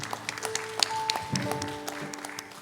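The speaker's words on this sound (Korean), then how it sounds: "모든 영광 주님 앞에 올려드리며 박수로 영광 올려드립시다." A Baptist church congregation at a Wednesday evening worship service claps in praise, a fairly quiet scatter of individual claps over steady held keyboard tones, with no one speaking.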